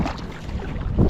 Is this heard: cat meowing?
no